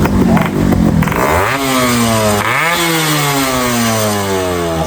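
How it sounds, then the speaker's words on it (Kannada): A Yamaha RX motorcycle engine revs hard close by, its pitch climbing and falling in a couple of sharp throttle blips before settling into a steady, rising whine. "RX ಸೌಂಡ್ ಐತ್ರಿ ಗಾಜ, ಅಸಲಿ ಸೌಂಡ್ ಐತ್ರಿ ಗಾಜ"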